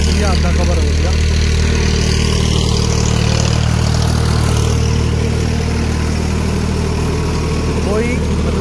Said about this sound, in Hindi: मतलब 13 मिनट हो चुके हैं ट्रैक्टर चलते हुए